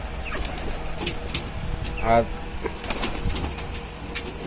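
Racing pigeons coo softly around a loft, with one distinct rolling coo rising near the middle, wing sounds and outdoor background noise, while someone speaks over them.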